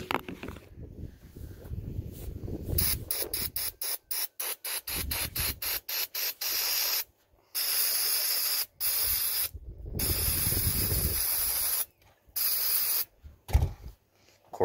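Aerosol spray can hisses in long loud bursts during a transmission service on a 2007 Chevy Silverado 1500 LT, with a quick run of short rhythmic sprays and pauses between longer blasts, close up.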